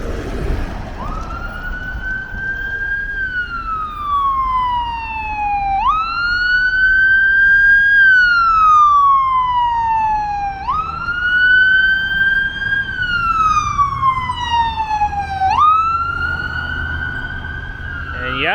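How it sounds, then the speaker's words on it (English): A paramedic ambulance on Yonge Street in Toronto sounds a loud wailing siren that rises and falls in slow repeated sweeps as it passes, over traffic noise. "That's the paramedic ambulance."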